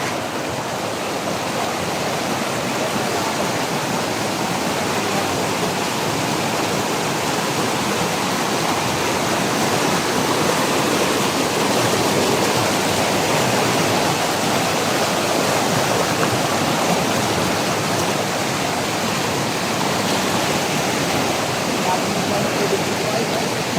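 Steady, loud rushing of clear river water during a typhoon in Mindoro, a continuous broadband roar filling the whole stretch without pause, with faint voices now and then beneath it.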